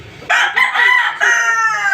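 A rooster crows loudly and close by, one long drawn-out call with a few rising and falling segments, strong and clear with nothing else audible.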